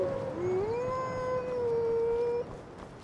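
A wolf in the video game Skyrim lets out one long, sustained howl that rises and then holds steady for over two seconds. A fainter second howl sits behind it over low background ambience.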